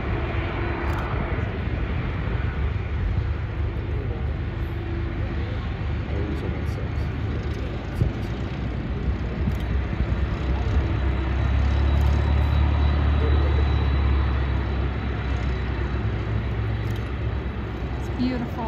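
An Atlas Air Boeing 747 lands at Daytona Beach, its jet engines giving a steady, heavy roar throughout, with people talking faintly nearby.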